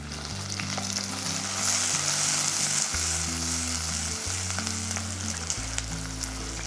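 Shallots, garlic cloves and curry leaves sautéing in a pan for egg gravy, a continuous loud sizzle with low rumbling stirring underneath throughout, close and without voices.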